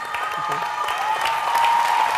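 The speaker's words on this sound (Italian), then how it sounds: "L'applauso ovviamente va condiviso con tutti gli amici in sala" Audience applause fills a hall at an Italian brand-strategy award ceremony, steady and moderately loud throughout with a tonal hum and faint voices underneath.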